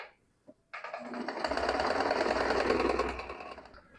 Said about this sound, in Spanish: le vamos a pasar su costurita de carga por aquí